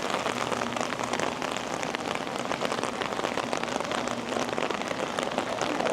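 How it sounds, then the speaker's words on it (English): Steady rain falling at Magic Kingdom, a continuous close hiss of drops pattering on wet pavement and surfaces, even and unbroken, with no voices over it. "I'm gonna give you guys some rain ambiance here in Magic Kingdom while my feet get soaked."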